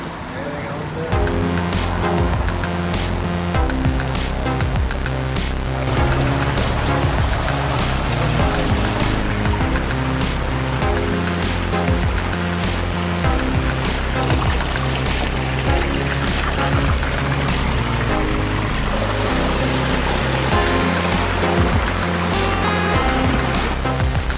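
Steady, dense rush of water splashing down a pondless waterfall feature with two ponds at an inn, a continuous loud wash under occasional voices talking nearby.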